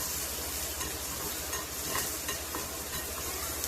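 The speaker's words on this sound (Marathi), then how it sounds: "बघा, कांदा टाकून घेतलाय. आता मी तो परतून घेते." Chopped onion sautéing in a hot pan for a spicy Konkani dried-fish chutney gives off a steady, dense sizzle with occasional stirring scrapes, close and continuous without talk.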